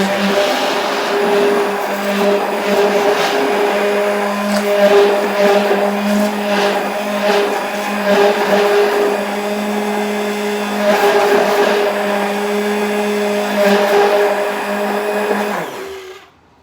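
Kitchen blender blitzing Yorkshire pudding batter in a jug: a steady, loud motor whine with a strong harmonic hum running for about fifteen seconds, then cutting off abruptly at the end.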